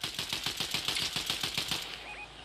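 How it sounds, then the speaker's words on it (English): Rapid bursts of gunfire in the video game Fortnite, a steady string of sharp, evenly spaced shots close by for about two seconds before cutting off into quieter game sounds. "Gunshots behind me."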